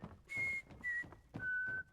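Characters in the video game Fallout: London whistle a tune in three sustained, fairly faint phrases over low background ambience.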